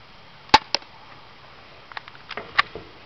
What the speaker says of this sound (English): See how good this pistol is? A hit at the tissue box.